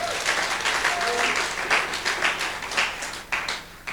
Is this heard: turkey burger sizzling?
no